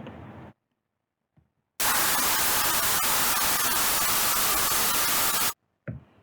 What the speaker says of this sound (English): an example of a white noise